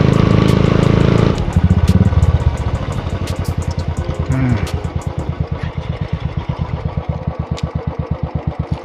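Motorbike engines rumble loudly on a South Sikkim mountain road near Namchi, a dense revving roar at first, then settling into a steady, fast-pulsing idle thump up close.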